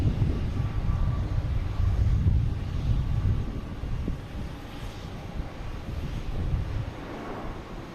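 An Iberia airliner bound for Madrid at Boston Logan Airport, a broad low engine roar with wind buffeting, loud at first and gradually easing.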